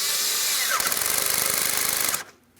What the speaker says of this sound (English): Now while I hold that towards the throttle body, I'm going to tighten my 7mm headed clamp.